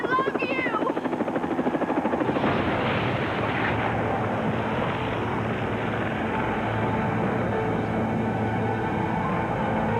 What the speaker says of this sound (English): The helicopter crashed.